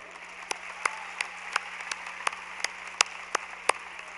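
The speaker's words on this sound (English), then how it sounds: "Please give Dr. Vargas another round of applause." Applause for an honoree at a 2013 high school graduation ceremony: a thin, evenly paced string of about a dozen crisp claps over a quiet hall with a low hum, with no voices.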